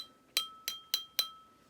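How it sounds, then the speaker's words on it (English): A glass filled with water is struck four times as a musical cup, producing bright ringing clinks at an even rhythm, each with a short sustained tone, close and clear with no talking. "This time the bigger amount of water that's filled up inside the glass is making the lower sound."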